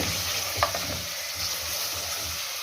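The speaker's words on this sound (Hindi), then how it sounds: "देखिए थोम लहसुन अच्छी तरह से भूनना।" Chopped garlic and ginger fry in a pan with a steady, close sizzle and brief stirring scrapes, part of an aloo gosht preparation.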